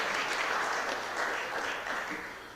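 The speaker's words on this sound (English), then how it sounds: "let's give Alderman Arnowitz a big round of applause" Sustained applause fills a Board of Aldermen meeting room, a steady dense wash of many hands clapping at even loudness, honoring Alderman Arnowitz.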